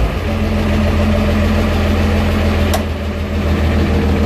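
An old manual-transmission vehicle's engine, primed with ether, turns over and settles into a loud, steady idle with a constant low rumble and a brief click near the end; no talking.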